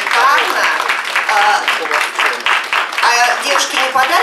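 Audience applause at a Miss Bikini contest: a dense burst of clapping that swells and dips in waves over a few seconds, fairly close and loud.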